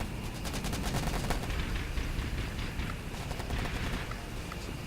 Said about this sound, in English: Got more machine gun coming across.